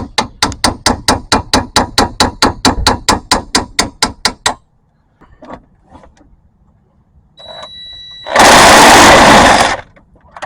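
Impact wrench hammering on a stripped brake bolt on a 2011 Subaru Forester, a fast rapid-fire rattle of about twenty sharp loud blows over several seconds, then quiet shop noise, a brief whine and a loud burst of air near the end.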